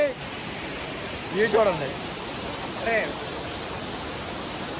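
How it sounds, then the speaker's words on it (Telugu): Tirathgarh waterfall roars as a steady, broad rush of falling water close by, with someone speaking briefly over it twice. "మేము తీర్థగిరి వాటర్ ఫాల్స్ వరకు వచ్చాం"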